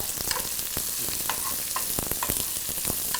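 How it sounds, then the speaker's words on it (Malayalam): Stuffed filling fries and sizzles in a pan with crackling oil and occasional stirring scrapes, close and steady, no voices. "നിറച്ചത് ഇത് ഒന്ന് ഫ്രൈ ചെയ്തിട്ട് പിന്നെ ഈ മണത്തക്കാളി ഇതിലിടണം"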